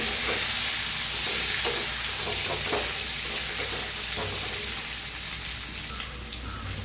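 Stuffed bitter gourd (karela) being stirred in a hot pan, a steady loud sizzle of frying with occasional scraping of the spoon against the pan.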